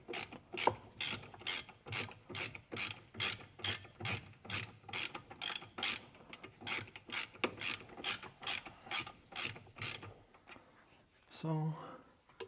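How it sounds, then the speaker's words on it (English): A ratchet drives a Torx bolt during a brake service, a rapid run of sharp, close clicks in an even rhythm for about ten seconds, followed by a brief murmur of voice. "ratcheting it in."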